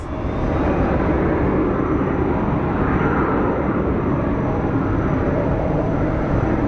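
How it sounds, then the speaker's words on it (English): A KC-135 refueling aircraft of the Arizona National Guard produces a loud, steady jet roar, broad and sustained throughout with no voices. "KC-135. part of the Arizona National Guard refueling wing that they have."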